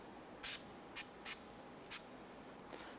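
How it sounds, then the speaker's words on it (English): Four short, sharp hissing bursts of aerosol anti-seize compound sprayed onto the face of a wheel hub during a 2007-2012 Nissan Versa front bearing and hub replacement, evenly spaced and close against a quiet background. "I'm going to spray a little bit anti-seize compound on the face of the hub."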